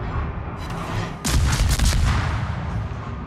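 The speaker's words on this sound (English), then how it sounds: "Should be killing that Mohan and shooting at the freaking battleship, going for the glory" Warship naval guns firing in the World of Warships video game, a heavy booming salvo with several overlapping blasts that roll out into a rumbling tail.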